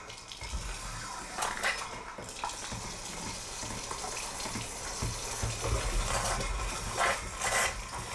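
Water runs steadily from a household faucet in a house where methane travels with the water supply. The flow is continuous and moderately loud, with a few brief splashy bursts and no voices.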